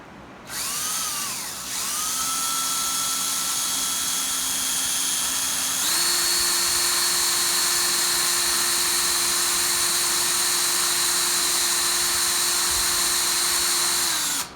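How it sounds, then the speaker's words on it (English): A power drill whines steadily at high pitch, spinning up after a brief start and then holding a loud, constant tone as its bit bores through glass, with water lubricating the cut. "that lubricates the drill bit as I cut through the glass"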